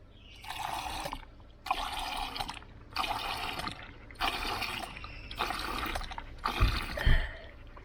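Water poured out in several separate bursts for dogs outdoors on a hot walk, each splash lasting about a second with short gaps between, close and moderately loud.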